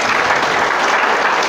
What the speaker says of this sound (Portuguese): Quem crê pode aplaudir e glorificar